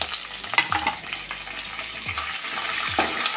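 Chopped onion, curry leaves and green chillies frying in hot oil in a pan, a steady close sizzle with crackles and occasional stirring scrapes, no voices.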